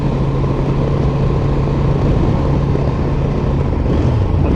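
A 2025 Honda Transalp 750 motorcycle riding loudly with a steady engine drone, its pitch stepping down near the end as it drops through the gears, heard from the rider's position without any talking.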